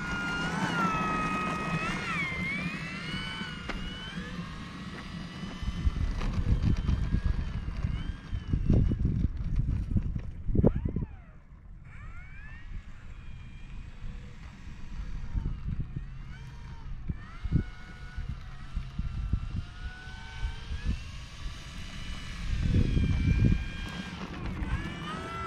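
An E-Flite Air Tractor 1.5m electric RC plane whines overhead in gusty wind, its motor pitch rising and falling while buffeting wind noise rumbles over the microphone throughout.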